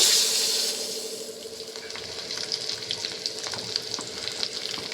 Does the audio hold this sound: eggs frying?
yes